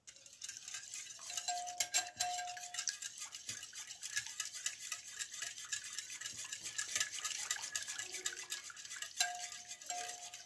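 Cake batter liquids being stirred together in a bowl for a trending sultan's-cap cake, a steady scraping and clinking of a utensil against the bowl throughout, close and fairly quiet with no talking.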